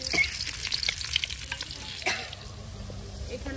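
Steady sizzling and scraping as ground cumin, coriander, turmeric, chili, salt and ginger-garlic paste fry and are stirred in a pan for cauliflower curry, close and continuous with a few sharp clinks.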